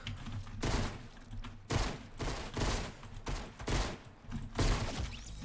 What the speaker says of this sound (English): All targets shooting you from everywhere.